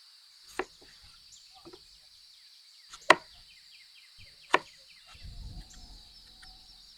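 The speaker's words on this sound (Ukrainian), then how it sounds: "наріжемо картоплю та морку" A knife chops potatoes and carrots for green sorrel and nettle borscht in three sharp, isolated strikes spaced a few seconds apart, against a quiet room with a faint high-pitched background whine.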